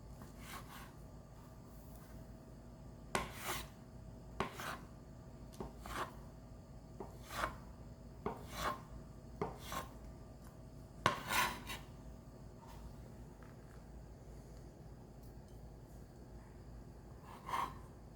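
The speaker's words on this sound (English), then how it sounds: "It's now time to cut our 2 hard-boiled eggs." A knife slices through two hard-boiled eggs on a cutting board, giving a string of crisp, separate taps and clicks at an uneven pace, close and quiet over a faint steady hum.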